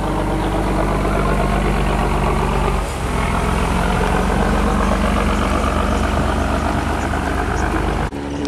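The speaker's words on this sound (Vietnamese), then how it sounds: "Rồi các bạn thấy cái tiếng máy khủng khiếp không?" A heavy sea fishing boat engine roars loudly and continuously up close as the boat sets out to sea, a deep rumbling drone with a brief dip partway through.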